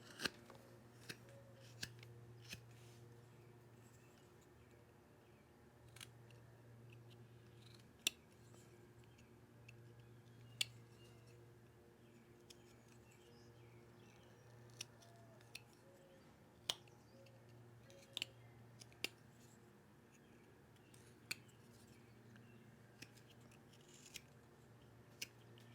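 A knife whittles a small wooden wizard, rounding off its big corners. Sparse, sharp, close scraping clicks sound at irregular intervals over a faint steady hum.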